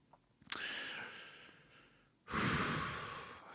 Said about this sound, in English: I'm sorry if I keep breathing into the microphone